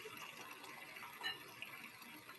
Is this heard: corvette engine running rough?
no